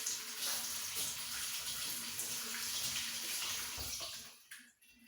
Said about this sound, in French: Je vais ouvrir de l'eau.